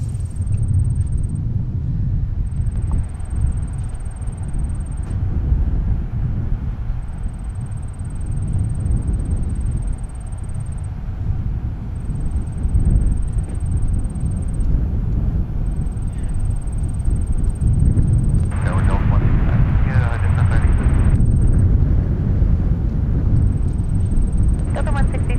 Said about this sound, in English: here's Delta coming in from Charlotte with the A220